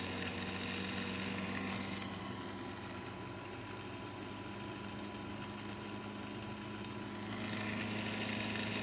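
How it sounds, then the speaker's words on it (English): An Orbette device runs with a variable inductor brake, giving a steady, dense motorized hum and whir that holds level for several seconds, dips slightly in the middle and then swells again, close and continuous with no voices. "You can see the Orbette is accelerating."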